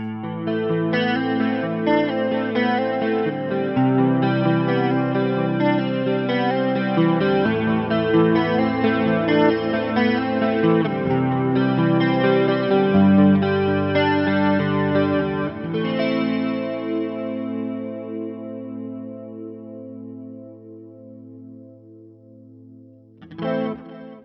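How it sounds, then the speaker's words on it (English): Clean electric guitar on a Spira, neck pickup with lush 80s-style chorus, played as a sustained chordal passage that rings out near and loud, then decays into a lingering held tone before a final short strum. "let's do some 80s with a bit of chorus, bit clean. In the neck pickup"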